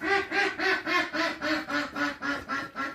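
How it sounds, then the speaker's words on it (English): Ducks quack outdoors in a steady, evenly spaced run of about ten loud, close calls with no talking. "Ducks are being obnoxious at 7:30."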